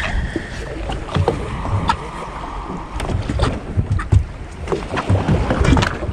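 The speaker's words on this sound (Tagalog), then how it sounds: "Malakas ang alon." A small boat rides strong waves out at sea, with irregular thumps and splashes of water against the hull over steady wind noise, loud and close throughout.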